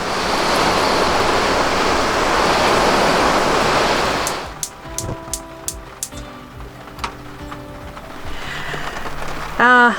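Steady rain falls at a campground on New Zealand's West Coast between Westport and Karamea, a dense hiss for about four seconds before it cuts to quieter clicks and clatter.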